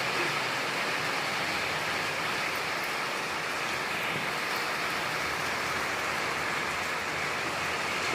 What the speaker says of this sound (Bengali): পুরা দমে নামছে রে ভাই বৃষ্টিতে